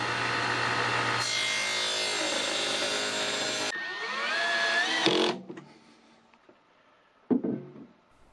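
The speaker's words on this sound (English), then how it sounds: "I cut the blocks close to the edge of the hole so the edge of the table will sit on the screws." Power saw cutting blocks for a homemade cast iron 12-inch jointer, a steady loud buzzing cut for several seconds, then a changing whine that fades, followed by a short scrape near the end.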